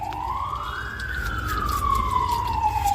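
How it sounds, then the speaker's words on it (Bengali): A fire engine siren from a nearby fire brigade wails in one rising and falling sweep, steady and moderately loud over low background rumble in a home kitchen. "পাশে আমাদের ফায়ার ব্রিগেড তাই কিছু করার নেই আওয়াজ তো আসবেই"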